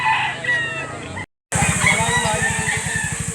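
A white screamer gamefowl rooster crows loudly at the Lipa auction market, a long raspy cock-a-doodle-doo broken by a brief gap, with clucking and crowd murmur around it.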